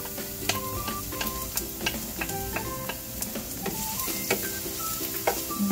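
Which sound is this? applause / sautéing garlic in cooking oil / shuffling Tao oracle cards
sautéing garlic in cooking oil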